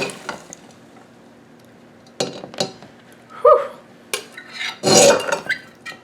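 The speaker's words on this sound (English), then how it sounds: "now I've got my heat turned back up, and I'm going to put my peppers in here" Jalapeno peppers dropped and stirred into a pot of boiling syrup, a few clattering splashes and scraping stirs in separate bursts, fairly close.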